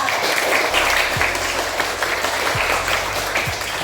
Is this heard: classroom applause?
yes